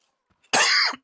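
A single short, harsh cough bursts out after near silence and cuts off abruptly.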